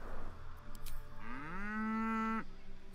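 A single long cow moo in a video game, rising then holding steady, clear and close, with quiet background murmur around it.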